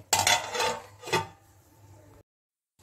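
A lid is set down onto a cooking pan holding fried garlic, giving a couple of close metallic clatters and scrapes, followed by fading rattle and then silence.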